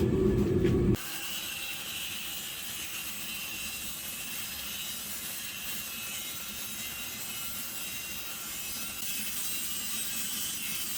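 A forge-welded steel piece is cut in half with a saw, giving a continuous harsh, grinding rasp that stays steady and close throughout after a brief opening sound.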